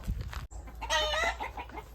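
Chickens cluck nearby in a short burst of throaty, repeated calls over a low rumble of background noise, in a Konkan village.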